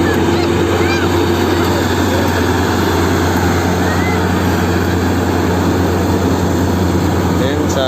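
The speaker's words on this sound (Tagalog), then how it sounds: "Ito yung tinatawag na harvester." A rice harvester machine drones loudly and continuously in a field, its engine roar steady and close throughout.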